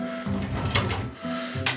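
Drawers slide open and shut with a low rumbling, rattling glide, a couple of short passes close by, with no voices.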